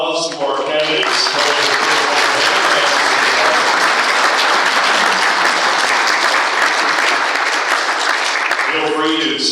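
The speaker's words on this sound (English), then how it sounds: "Let's give a round of applause to our candidates." An audience at a Fergus Falls city council and mayoral candidate forum applauds the candidates with a full, loud burst of clapping that swells quickly and holds steady for several seconds before tapering off.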